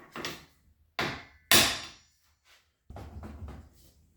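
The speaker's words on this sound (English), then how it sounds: "I've got an 18mm socket and a hammer. I'm just going to lightly tap the wiper" Hammer lightly tapping an 18mm socket to seat a wiper arm on a Ford Focus, four or five sharp separate knocks with brief pauses between them, close and fairly loud.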